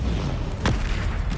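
Bombarda explosion spell in the Hogwarts Legacy video game, a single short burst partway through amid steady loud combat noise, with no talk.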